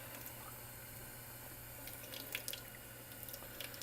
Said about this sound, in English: I'm just going to rinse out these containers.